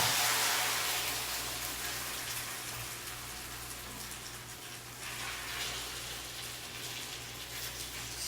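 A frittata mixture pours and sizzles into a hot Saladmaster skillet, a steady broadband hiss and crackle that stays fairly loud and slowly eases, alone without talk.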